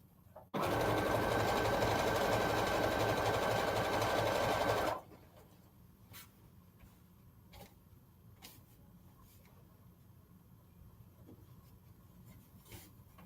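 A sewing machine stitches a Black Power flag in one loud, steady run of about four seconds, then stops, leaving only quiet room sound with a few faint clicks.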